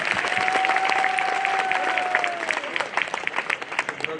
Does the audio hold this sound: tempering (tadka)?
no